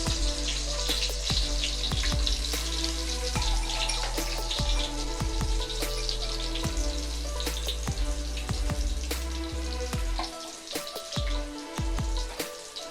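Thinly sliced onions sizzle in hot oil for a biryani, a steady, close frying hiss with dense crackling pops throughout, dipping slightly near the end, with no talking.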